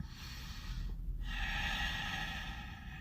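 A person takes slow, relaxing breaths, a soft drawn-out inhale followed by a brief pause and then a longer exhale, close and quiet with no talking.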